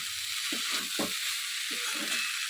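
Leftover cooked rice is fried in a pan for fried rice, a steady bright sizzle running throughout with a few low scraping stirs of a spatula.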